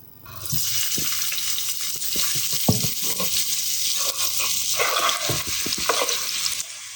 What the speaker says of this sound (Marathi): तेल छान तापवून घ्यायचं आणि त्यामध्ये हा बारीक चिरलेला कांदा घालूया